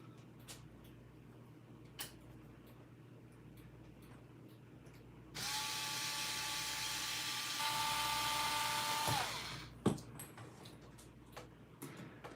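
A power drill whirs steadily for a few seconds, a high whine rising slightly in pitch before cutting off, amid scattered clicks and taps.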